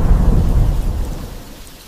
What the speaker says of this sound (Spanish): un día el cielo ruge y comienza a llover